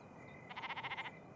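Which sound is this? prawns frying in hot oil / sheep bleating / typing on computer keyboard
sheep bleating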